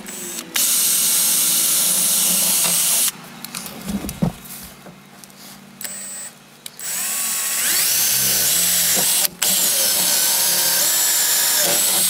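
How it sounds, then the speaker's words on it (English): A power drill bores holes in metal conduit for a budget rooftop tent build, its steady high whine running loud and close in long stretches with a brief pause and quieter handling noises between. "I got my holes drilled in my conduit"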